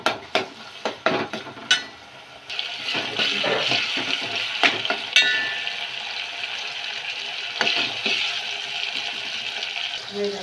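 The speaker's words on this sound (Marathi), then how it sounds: "टोमॅटोला चांगलं परतून घेऊ." Chopped tomatoes being sautéed in a pan with tempering, a steady close sizzle broken by repeated sharp clinks and scrapes of a spoon against the pan.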